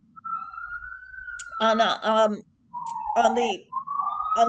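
An ambulance siren outside gives a steady, slowly rising wail that comes and goes between stretches of a person talking close by.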